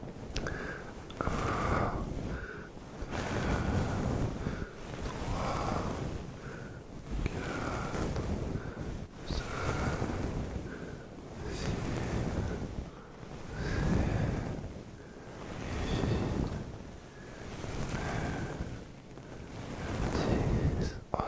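Soft, continuous brushing against a microphone, close and steady, swelling in slow rhythmic waves of rustling hiss with no talk.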